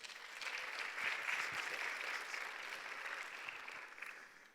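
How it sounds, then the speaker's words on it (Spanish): A congregation claps together at a church gathering, a steady wash of applause from many people that swells briefly and then tapers off toward the end. "Un aplauso una vez más"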